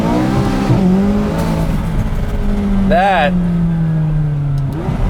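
A McLaren 570S sports car accelerates hard with a strong engine note that rises through the gears, and a high whine cuts in briefly. Someone talks over the engine throughout.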